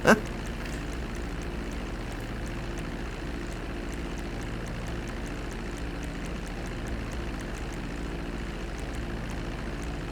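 In GTA 5, a propeller airplane engine drones steadily and evenly for the whole stretch, a continuous low hum with a faint buzzing texture and a brief bump at the start.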